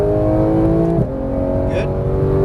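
A Porsche 991 GT3 engine drones loudly and steadily as the car accelerates out of a chicane on track, with a brief pitch dip near one second before it pulls on again.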